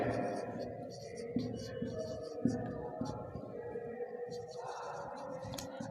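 Chalk or marker scratching across a board in a classroom accounting lesson, quiet intermittent strokes with soft taps, while a teacher talks softly over them.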